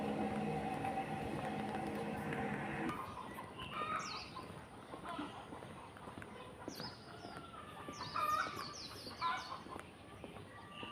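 Several short chirping bird calls at a distance over outdoor ambience, after a low rumbling hum fades in the first few seconds.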